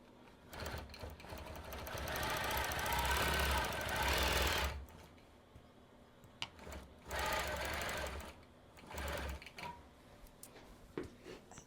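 A Gammill Statler longarm quilting machine stitches vintage butterfly shams in two rapid, rattling bursts, the first longer, separated by quiet pauses with small clicks and handling noises.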